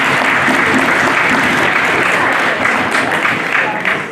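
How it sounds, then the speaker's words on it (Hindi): Loud, dense audience applause at an award ceremony in the Parliament of India, a steady close roar of clapping throughout that eases slightly toward the end. "एक बार जोरदार तालियां बजाएं"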